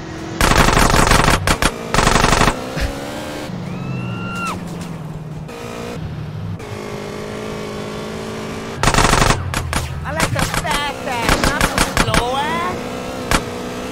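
Automatic gunfire from GTA San Andreas Remastered, loud rapid bursts of shots separated by stretches of car engine and driving noise, with rattling volleys returning near the end.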